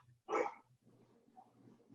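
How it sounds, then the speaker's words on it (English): A dog barks once, close and sharp, then low rumbling and shuffling follow indoors during an interview. "I'll let my dogs bark"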